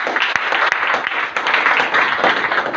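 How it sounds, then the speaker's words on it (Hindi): Enthusiastic audience applause at a motivational business gathering in Bihar, a dense, steady wash of many hands clapping throughout, fairly loud and close with a few sharper individual claps standing out. "इस सिस्टम के लिए जबरदस्त तालियां।"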